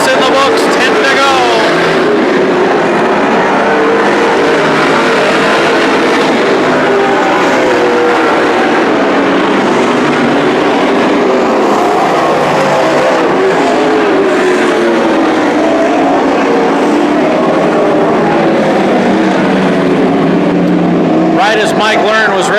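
Super stock race cars roar around Petaluma Speedway, their engines droning loud and continuous through the whole stretch as the field circles the oval, with a race announcer talking over the top throughout.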